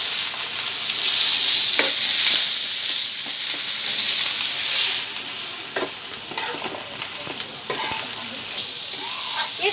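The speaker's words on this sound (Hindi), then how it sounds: "अभी इनको मैं अच्छे से भून के ले लूँगी।" Spices for chhole masala frying and being stirred in a pan, a steady close sizzle with repeated scraping strokes of the spoon throughout, no talking.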